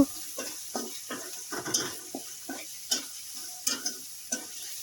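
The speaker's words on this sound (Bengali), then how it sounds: "গাজর কুচি দিয়ে দিলাম দিয়ে দুই মিনিটের মতো নেড়ে চেড়ে ভেজে নেব" Chopped carrots and onion stir-fry in a pan for chicken chow mein, a spatula scraping in steady, rhythmic strokes roughly twice a second over a faint sizzle, close by with no talking.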